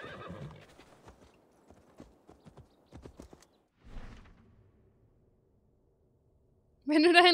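In the video game Assassin's Creed Valhalla, hooves clip-clop unevenly on the ground for a few seconds, then after a pause a horse lets out a loud, bright whinny.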